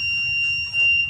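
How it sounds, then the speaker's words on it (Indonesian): Small electronic buzzer on an ESP32 touch sensor circuit giving a thin, steady high-pitched tone, fairly faint over a low room hum. "Bisa dilihat dari buzzer dan LED akan mengeluarkan, dari LED akan aktif dan dari buzzer akan mengeluarkan bunyi."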